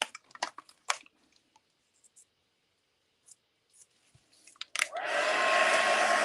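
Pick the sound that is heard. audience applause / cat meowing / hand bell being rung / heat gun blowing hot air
heat gun blowing hot air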